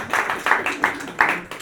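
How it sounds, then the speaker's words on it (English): A short burst of clapping from a group, several uneven pulses of applause over a second or two, fairly close. "I want a round of applause for Chris."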